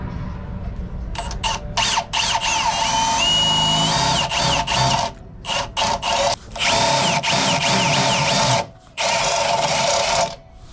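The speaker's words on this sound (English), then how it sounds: "I'm gonna go ahead and drill some holes." High-pitched whine of a power drill boring holes in an intercooler bracket on a 1996–2000 Honda Civic K-swap, running in repeated bursts with short pauses and pitch shifts as the bit bites, loud and close.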